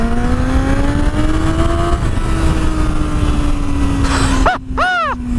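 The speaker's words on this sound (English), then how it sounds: "So let's try again with full throttle." Suzuki GSX-S1000 motorcycle at full throttle: the engine note climbs steadily through a long, loud pull, then several rapid gear shifts flick the pitch up and down near the end.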